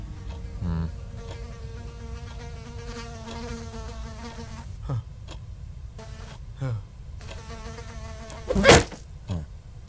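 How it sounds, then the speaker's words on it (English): Bee buzzing close by, with a steady droning hum that rises and falls as it moves, and a louder burst near the end. "Pesky bee."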